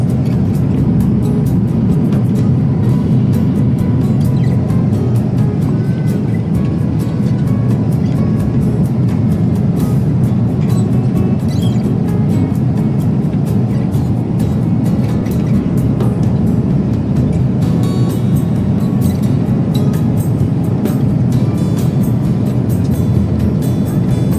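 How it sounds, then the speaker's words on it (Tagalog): Steady loud airliner cabin roar on a flight from Stockholm to Manila, a dense unbroken low rumble and hiss that stays constant throughout with no talk. "Andito pa rin kami sa eroplano."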